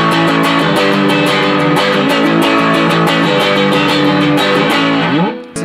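Loud, heavily distorted electric guitar strums rock chords in a driving, steady rhythm, playing alone and close before stopping with a final slide.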